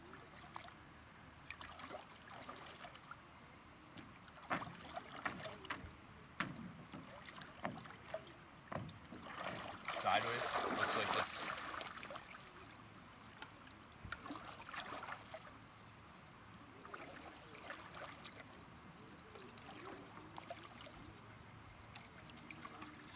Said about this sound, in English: I dip my paddle in the water, and I pry off the gunnel.